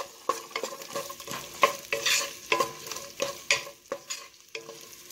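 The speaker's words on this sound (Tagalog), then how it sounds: "gisa lang tayo ng sibuyas." Chopped onions sautéing in a pan with shrimp paste, stirred steadily so the loud sizzle rises and falls in bursts, with repeated scraping strokes and no talking.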